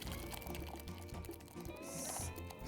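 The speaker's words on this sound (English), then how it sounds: "all the lovely ingredients we put into the pressure cooker is now blended into this, which we are going to strain through the sieve" Blended tomato, carrot and coconut milk soup pours steadily through a sieve, a close, continuous liquid trickle and splash with faint dripping, no voices.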